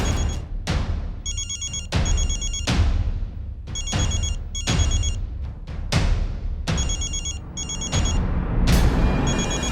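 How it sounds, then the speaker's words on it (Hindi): A mobile phone rings in short repeated bursts of electronic tones, punctuated by loud comic music hits and booms, with no one talking over it. "फोन बज रहा है आपका, उठाइए पहले"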